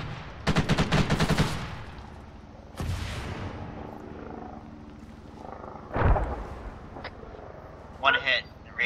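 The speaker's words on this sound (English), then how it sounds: "Alright, open fire." Video game gunfire in a forest firefight: a fast, loud machine-gun burst opens the scene, followed by scattered single shots and a later volley, with voices talking between the bursts.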